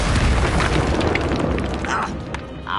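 A Confringo blasting spell explodes in the video game Hogwarts Legacy, giving a loud, dense booming roar that fills the whole moment and slowly tapers.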